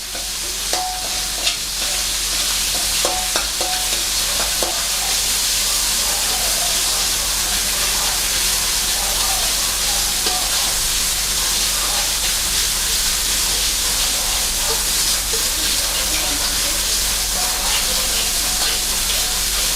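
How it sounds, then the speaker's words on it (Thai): Southern-style red curry paste is stir-fried for a mussel dish, giving a loud, steady sizzle and hiss with scraping stirs throughout, close and continuous, with no one talking. "อันนี้จะทำเป็นเมนู ผัดพริกแกงหอยแมลงภู่นะครับ"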